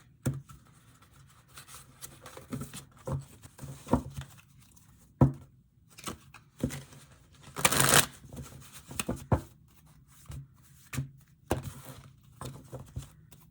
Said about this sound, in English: let's draw a card on that